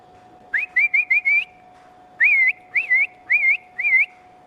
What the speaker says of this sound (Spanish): Ese era el silbido.